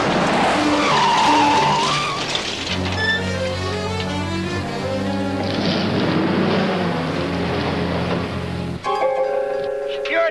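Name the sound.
tractor ramming and skidding at a car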